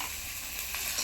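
Spices with salt, turmeric and tomato paste fry in a pan for a Bengali prawn fritter curry, giving a brief, steady, close crackling sizzle with no voices.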